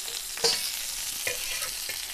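Stuffed okra sizzles in a pan as it is shaken, with several sharp scraping jolts over a steady frying hiss, close and clear.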